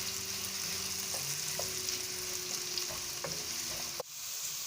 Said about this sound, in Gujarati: ઓનિયનને સહેજ ગુલાબી થાય ત્યાં સુધી શેકવું.